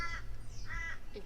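Two or three harsh crow caws ring out close by over a low steady hum, with a fainter bird call at the end.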